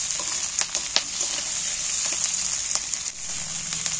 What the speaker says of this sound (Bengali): এবার পেঁয়াজের সঙ্গে ভেজে নেব রসুনটাকে।